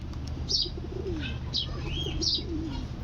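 Lakha pigeons cooing nearby, soft repeated low coos with a few higher chirps and faint wing flutters over a steady background hum.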